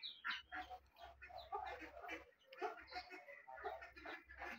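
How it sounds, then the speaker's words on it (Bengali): Ducks and chickens roam a village yard, their quacks and clucks overlapping in a busy, continuous chatter of moderate loudness close by. "ভিডিওতে পাশে হাঁস মুরগির অনেক শব্দ"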